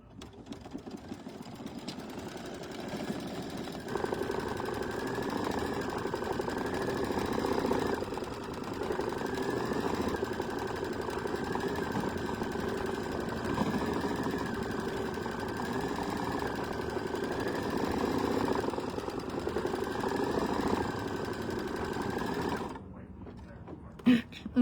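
Sewing machine running a steady tack-down stitch on appliqué fabric for a quilt, a continuous moderate mechanical hum and rattle that stops near the end, with faint talk in the background.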